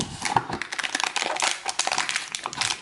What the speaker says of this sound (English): Let's try to tear into this.